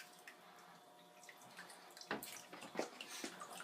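Water from a paper pulp mix draining through a sieve, faint trickling at first, then louder splashing and dripping bursts close by, no voices.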